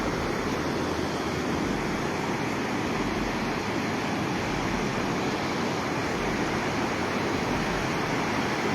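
Pindar river near Narayanbagar in Uttarakhand, swollen after heavy overnight rain, rushing water making a steady, loud, broadband roar that stays unbroken throughout.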